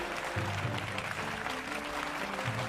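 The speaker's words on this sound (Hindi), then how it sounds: "जोरदार तालियों के साथ स्वागत कीजिए" Steady applause from a crowd at a dance competition event, a dense wash of clapping that continues evenly from start to finish.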